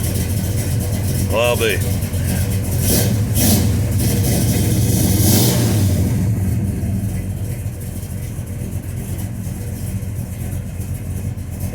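A cold car engine runs with a steady, rough rumble that swells louder for a few seconds and then settles back to a lower idle, while someone briefly speaks over it.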